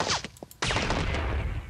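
A sniper rifle shot in Duke Nukem Forever, a few short sharp cracks followed by one loud, booming blast that rings out and decays over the remaining second.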